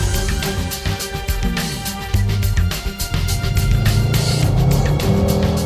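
A Mercedes-AMG GT 4-door saloon runs at full throttle on a racetrack, its engine roaring loudly from inside the cabin and rising in pitch through quick gear changes.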